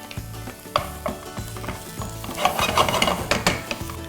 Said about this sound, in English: we're going to heat up a little bit of oil. Let's sweat some onions along with a little bit of chillies